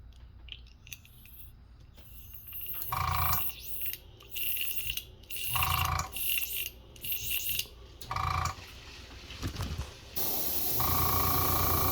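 Spray gun laying clear coat over a dipped finish in short hissing bursts with pauses between them, ending in a longer steady spray, close and fairly loud.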